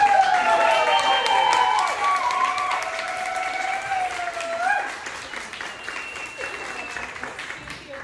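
Steady applause from a book launch audience welcoming two authors, sustained and fairly loud for several seconds before fading slightly, with some voices and cheering mixed in.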